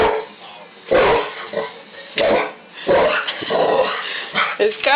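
A small dog scared of a broom gives bursts of growling, whimpers and yips in close, loud, uneven spurts with short pauses between them.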